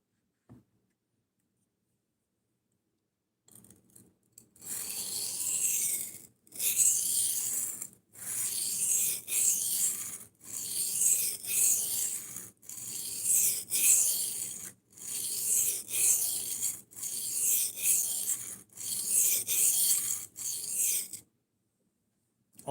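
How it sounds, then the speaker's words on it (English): A knife is sharpened on a 400 grit whetstone, with about a dozen rhythmic, raspy grinding strokes separated by short pauses and fairly close and clear, after a few seconds of silence. "Okay, back to sharpening."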